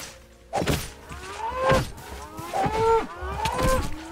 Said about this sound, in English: Oh, more cows.